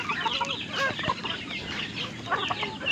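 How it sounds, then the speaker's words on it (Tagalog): Several chickens cluck and murmur nearby in short, irregular calls, overlapping against a low background hum. "Nagsimula lang ito sa aking manok na si Adan."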